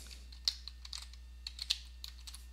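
Typing on a computer keyboard while entering a formula into an Excel spreadsheet, a handful of light, irregular key clicks close by over a faint steady hum.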